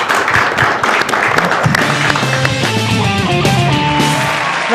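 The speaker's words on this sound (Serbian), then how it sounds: "Molim vas aplauz za Mariju Dudovsku." A TV talent show audience applauds a singer on Pusti svoj Glas 2014/15; steady clapping fills the room while music with sustained tones plays underneath.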